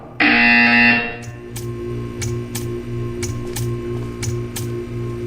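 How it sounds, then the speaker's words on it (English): In the Portal 2 video game a loud electronic buzzer blares for about a second, followed by a steady ambient hum with evenly spaced ticking clicks. "You will hear a buzzer. When you hear the buzzer, stare at the art."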